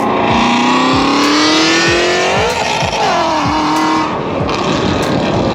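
A 2020 Shelby GT350 with full bolt-ons and a custom dyno tune, loud and close, the engine climbing steadily through the revs, easing back, then rising again with a raspy exhaust note.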